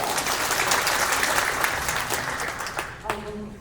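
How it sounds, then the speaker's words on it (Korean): An audience at a political party assembly claps steadily and fairly loudly for about three seconds, the applause fading out as a voice begins. "박수 맞아 주시기 바랍니다"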